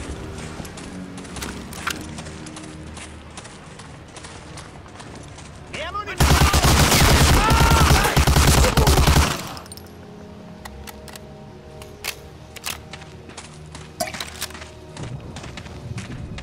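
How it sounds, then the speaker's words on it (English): Sustained, loud machine gun fire in the World War II shooter Medal of Honor: Allied Assault during Operation Overlord, a dense rapid burst lasting about three seconds amid scattered background gunfire. "I think I figured out who shoot me with a machine gun."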